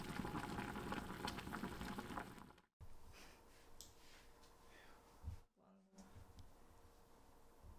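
Fish cake soup with radish, chili peppers, green onion and tsuyu seasoning comes to a rolling boil in a pot, loud bubbling first, then a quieter simmer with a couple of brief breaks.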